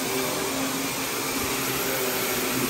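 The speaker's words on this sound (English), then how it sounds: "every part of the carpet vacuumed properly" Vacuum cleaner running over carpet in a home in Attleboro, Massachusetts, being cleared of pet hair, a loud, close, constant whine and airy roar with no pauses.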